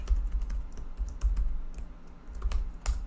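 A username is typed on a computer keyboard: a quick run of close, crisp key clicks in uneven bursts, with no voices.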